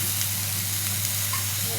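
Whole spices such as pepper and cloves fry in hot oil in a pan for chicken curry, making a loud, continuous close-up sizzle with no break.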